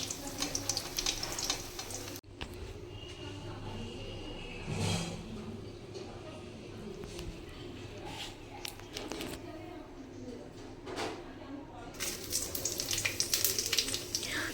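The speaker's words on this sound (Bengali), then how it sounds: "সেই তেলের মধ্যেই দিয়ে দেব সাদা জিরে আর শুকনো লঙ্কা" Cumin seeds and dried chillies fry in leftover oil in a kadai while fish curry with potato and ridge gourd is being made, giving a faint, steady sizzle with a few clinks and stirring noises.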